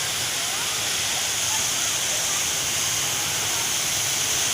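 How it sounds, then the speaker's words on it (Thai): Water fountain at Ho Banharn in Suphan Buri near sunset, a loud steady broadband splash and hiss throughout with no pauses. "เราจะพาท่านไปดูน้ำพุ"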